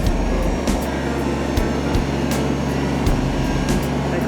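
Kubota BX tractor engine running at a steady, loud, close drone while scooping dirt, with a few brief rattles and clunks from the loader.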